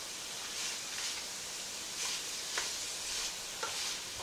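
Thyme and seasoning stirred in a pot for homemade Oregon clam chowder: a soft, steady sizzle with faint scraping strokes and a few light clicks of the spoon, close and alone.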